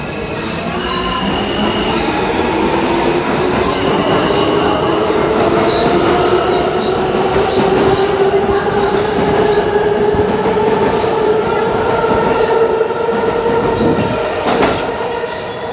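New York City subway trains run through Lexington Avenue–53rd Street station, a loud continuous rumble with squealing wheels and rising motor whine as the cars pass close by.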